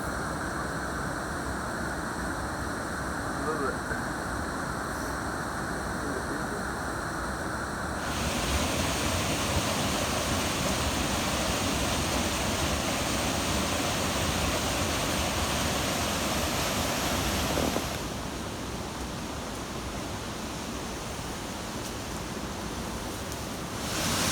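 Steady broadband rush of creek water flowing in New Zealand high country, loud and continuous with a few shifts in level and no talking.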